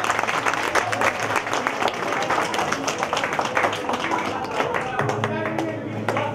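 Guests at a christening party applaud, a steady patter of many hands clapping throughout, with an amplified voice and background music mixed underneath.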